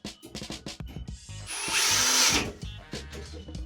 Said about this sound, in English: drill into it.